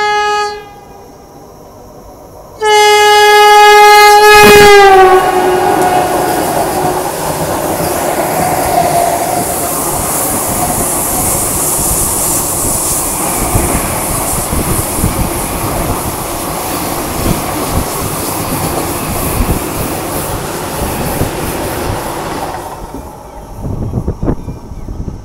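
A red Vande Bharat train passes near the Narmada river at Bharuch in Gujarat, opening with a loud sustained horn blast, then a long roar of rushing carriages and wheels that ends abruptly as the train clears.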